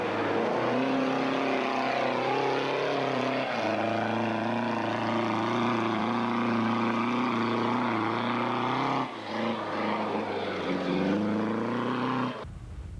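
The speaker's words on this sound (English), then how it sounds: "Van Reenen and Palmer just kept trucking along in the Ford Ranger." Ford Ranger racing in the Nampo 200 rally, its engine droning loud and steady with shifting pitch for most of the stretch before cutting off near the end.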